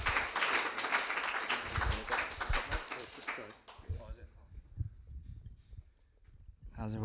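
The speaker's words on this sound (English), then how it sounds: "Can we have a round of applause for Kilo and Mo" Audience applause at a music-industry insight session, dense clapping for about four seconds that thins out into scattered claps and murmuring voices.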